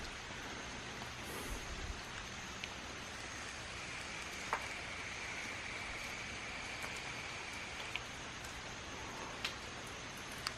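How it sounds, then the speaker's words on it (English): Rain falls steadily on a forest nature trail in Giant City State Park near Carbondale, Illinois, a soft even hiss with a few faint drip clicks, no voices. "Starting to rain a little bit harder."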